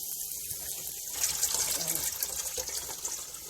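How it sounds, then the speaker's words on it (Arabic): Tap water gushing into a sink while fresh spinach is rinsed clean of sand, a steady splashing flow with slight swells of movement, close and alone. "كل ما تغسلي لحد ما تلاقي المية ما فيهاش اي رملة صفرا"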